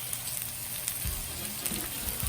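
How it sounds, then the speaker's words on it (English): Steak searing on a Blackstone griddle gives off a steady, crackly sizzle throughout, broad and hissy, with a few louder pops and spits, close and without talk. "Oh my gosh, love the sizzle."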